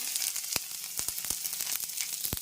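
Finely chopped cabbage frying in hot oil for an omelette, a dense continuous crackling sizzle broken by quick sharp pops and stirring ticks, close and steady.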